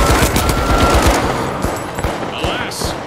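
An automated turret in the shooter game THE FINALS firing rapid, loud bursts of gunfire close by, the shots thinning out toward the end amid game effects.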